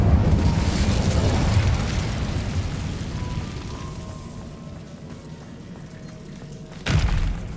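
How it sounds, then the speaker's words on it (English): Incendio fire spell cast in the video game Hogwarts Legacy: a loud, sustained rumbling whoosh of flame lasting several seconds that fades, then a fresh burst near the end. "Incendio."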